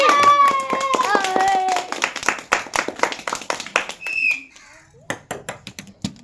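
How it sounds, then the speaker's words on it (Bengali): A group of people gives a short burst of hand clapping at a children's ball-in-water-glass game, the claps loud and close at first, then scattered, with children's voices and chatter around them. "সব একটা হাততালি।"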